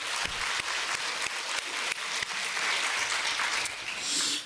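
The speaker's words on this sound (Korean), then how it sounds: "박수 한번 해드려요." A church congregation at a Korean worship service claps together in a dense, steady round of applause that holds for several seconds and swells slightly near the end.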